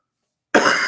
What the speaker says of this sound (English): Thank you for sticking with me through this cough.